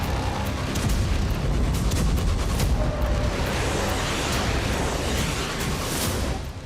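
Booming explosions and artillery fire from the Russia-Ukraine war near Zaporizhzhia form a dense, continuous rumble with overlapping bursts, loud and steady, with no voices.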